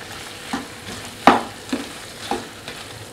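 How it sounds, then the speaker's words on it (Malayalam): Hyderabadi spicy chicken with coriander leaves is stirred in a pan over a low sizzle, with four or five distinct scraping strokes of a spoon on the pan at a slow, regular pace. "മല്ലിയില ഇത് നന്നായിട്ട് ഇളക്കാം."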